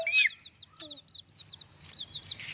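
Chickens on a poultry farm cluck and peep in short, quick bursts, fairly close, with a few higher chirps scattered through the quiet gaps.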